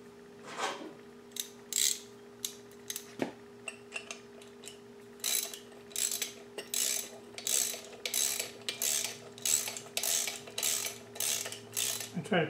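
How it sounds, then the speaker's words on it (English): Metal bolts with washers and nuts are tightened onto a puller while taking apart a Frazer B1-7 rototiller, giving a run of close, quick ratcheting clicks in short bursts that speed into a steady rhythmic series, with no talking. "now insert the other bolt with the washer and nut."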